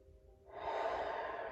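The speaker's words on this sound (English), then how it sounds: "inhaling deeply through the nose and out through the mouth" A slow, deep meditative breath near the microphone during a morning stretch session, drawn in through the nose and released through the mouth as a soft, steady airy rush over quiet background.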